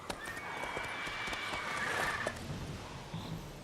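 Roach the horse in The Witcher 3, hooves clip-clopping at a gallop close by, with a whinny, fairly quiet over ambient game background.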